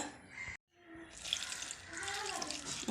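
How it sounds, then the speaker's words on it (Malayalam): Water from a tap poured into ground dried red chilli paste, a short pour, then a pause, then a steady close running stream that continues to the end, with no talking. "അപ്പം തുള്ളി വെള്ളം ഒഴിച്ചു കൊടുക്കാം നമുക്ക്"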